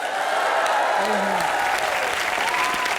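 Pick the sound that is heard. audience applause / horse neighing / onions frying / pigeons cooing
audience applause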